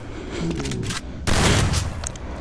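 Gunfire in a shooting video game during a round played for headshots: rapid bursts of shots, then a louder, denser volley partway through, with no talking.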